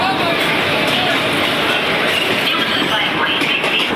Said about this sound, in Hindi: वेब 7 लोकोमोटिव लगा हुआ है जिसका नंबर है 30372 बलिया सियालदा एक्सप्रेस।